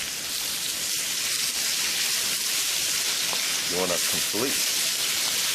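Meat sizzles loudly as it is stir-fried in a pan for pork fried rice, a constant dense frying hiss with a few short scraping stirs near the end.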